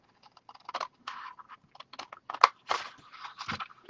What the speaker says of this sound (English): we're just going to cut up to the score line